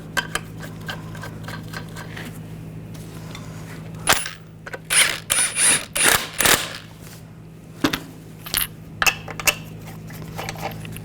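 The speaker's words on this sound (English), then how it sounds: "Get the lug nut started." Metal clinks and ratcheting clicks as a lug nut is threaded onto a wheel stud of a 2014-2018 GMC Sierra 1500 pickup, a handful of short bursts over a steady low hum, no talk.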